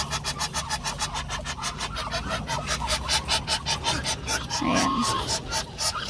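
Bronze local-breed muscovy ducks in a backyard farm cage give a continuous run of rapid, rhythmic honking and rasping calls up close, with a single short spoken word partway through.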